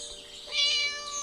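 A cat meows in the Scary Teacher video game, one drawn-out, high, tonal cry at moderate loudness with no talking over it.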